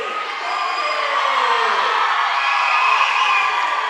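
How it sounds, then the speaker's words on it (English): A basketball crowd at a girls' high school game cheers loudly as it rises to its feet, a steady roar of whoops and shouts that swells and holds throughout. "A bit tougher to hear the Lady Comets as the crowd comes to their feet."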